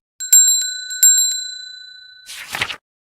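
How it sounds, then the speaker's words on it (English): Two bright rings of a bicycle bell, each chiming and fading, followed by a brief rustling clatter, then silence. "Bell goes ring,"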